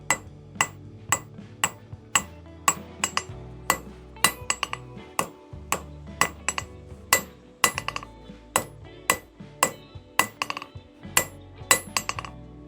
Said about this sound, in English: So I'm just gonna start hammering.